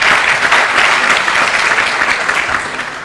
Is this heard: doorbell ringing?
no